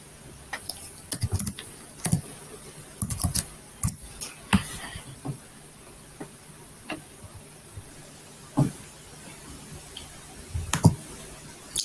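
Irregular light tapping of keys on a Chromebook keyboard, soft close clicks coming in small clusters and scattered single taps over a quiet background.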